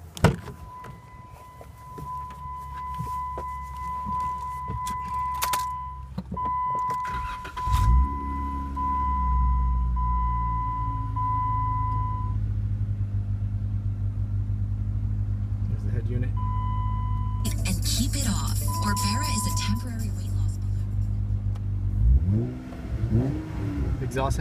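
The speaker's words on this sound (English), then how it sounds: "I'll go ahead and start it up for you so you can hear the exhaust." A 2013 Jeep Wrangler Unlimited chimes a few times with a door sound, then its engine cranks and starts, settling into a steady, deep, close exhaust rumble at idle before a brief rev near the end.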